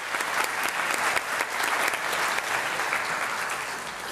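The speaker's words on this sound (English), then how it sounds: "Please join me in thanking our family and friends with an important round of applause." Audience applause at a high school senior graduation ceremony, a steady wash of many hands clapping together, continuous and moderately loud throughout.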